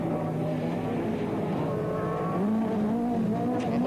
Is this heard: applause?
no